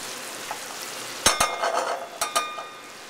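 Butter sizzles and crackles in a pan while onions sweat for rice pilaf, with a few sharp utensil clinks and stirring bursts standing out over a steady low frying hiss, close up and with no talking.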